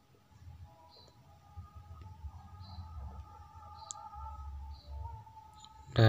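Faint, sparse computer mouse clicks in a quiet room, a few soft separate ticks spread evenly over a low steady hum, with a louder bump right at the end.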